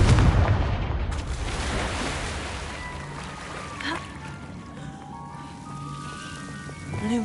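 A Confringo spell explosion in Hogwarts Legacy erupts as a loud close blast at the start, then decays into a rumbling, crackling tail with fainter magical tones and small pops afterward.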